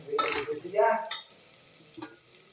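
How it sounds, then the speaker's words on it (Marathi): Goda masala, garam masala and red chilli powder being roasted in a pan for a spicy Konkan village-style river crab curry, with a few close scraping stirs and light sizzling that die away into quiet. "आता ते आपण पूर्ण मसाला भाजून घेऊया"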